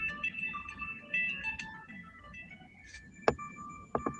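A mobile phone ringtone plays a repeating electronic melody of bright tones, fairly quiet over a low background hum, with a couple of sharp clicks near the end.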